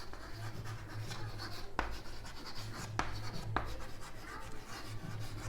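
Marker or chalk writing on a board during a physics lesson, continuous scratchy strokes with a few sharp taps, close and clear, without talking.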